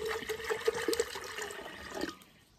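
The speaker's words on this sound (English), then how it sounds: "Add some water first, you know." Spring water poured into a blender for wild pineapple and Jamaican cherry juice, a continuous gurgling stream that runs for about two seconds and then tapers off.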